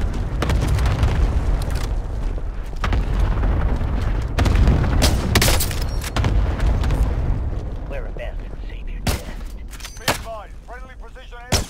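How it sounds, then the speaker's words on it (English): A friendly precision airstrike lands in a shooter video game: a run of heavy, booming blasts and rumbling impacts rolls on for several seconds and then thins into scattered sharp hits, with players talking over it. "Friendly precision airstrike inbound."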